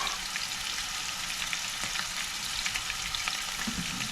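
Garlic pork sizzles in its marinade over high heat in a pan, a steady, dense crackle with occasional sharper pops throughout and no voices.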